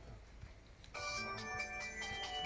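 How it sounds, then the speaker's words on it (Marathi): A mobile phone ringtone for an incoming call starts abruptly after a quiet stretch and plays a steady electronic melody, fairly close and alone. "फोन आलाय आता कोणा काय माहिती"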